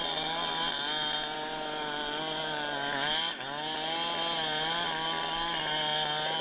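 A chainsaw cuts into a tree trunk during forest tree felling, its high buzzing engine droning steadily and loud with a short dip in pitch midway, no voices over it.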